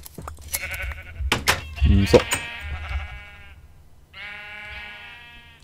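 Sheep in Minecraft give several close, clear bleats, one early burst and another long bleat near the end, with brief clicking game sounds and a single spoken word between them.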